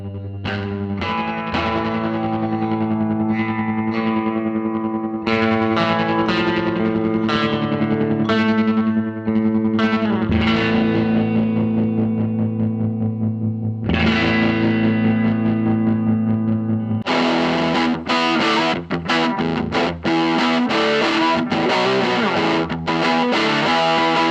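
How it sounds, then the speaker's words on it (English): Electric guitar chords and notes through a 1964 Marshall JTM45 Bluesbreaker 4x10 amplifier ring out with a pulsing, wavering tremolo effect on the sustained tones, ending in brighter, choppier strumming. "it's a really nifty little tremolo. It sounds quite sweet"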